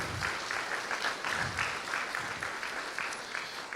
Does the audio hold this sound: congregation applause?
yes